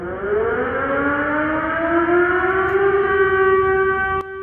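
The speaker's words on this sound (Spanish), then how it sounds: "Luego está la sirena de ataque aéreo." Air raid siren wailing with a slowly rising pitch, loud and continuous with strong harmonic tones, cutting off abruptly near the end.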